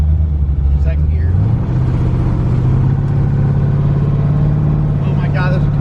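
An LS-swapped twin-turbo Fox Body Mustang pulling hard in second gear on the street, a loud deep engine drone rising in pitch from inside the cabin, with people talking over it.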